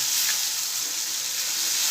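Sesame seeds and garlic-chili paste sizzle steadily in hot oil while cooking bitter gourd curry, a dense, even frying hiss close by with no talking.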